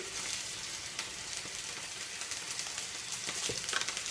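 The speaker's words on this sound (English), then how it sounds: "While my fish snap, crackles and pops over there" Fish sizzles and crackles steadily in a hot frying pan while cooking for a madras risotto, a dense continuous hiss with scattered small pops throughout.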